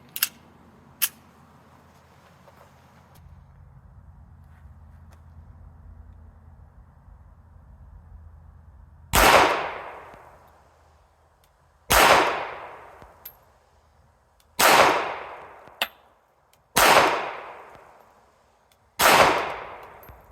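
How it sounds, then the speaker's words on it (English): Five sharp pistol shots from a Ruger LCP Max ring out at a target, each a loud crack with a quick decaying echo, spaced a few seconds apart after a quiet stretch with faint handling noises. "I'm going to shoot at the upper target."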